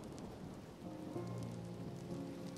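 Steady rain falling on a surface, a dense continuous patter with a low rumble beneath, moderately quiet and without any voices.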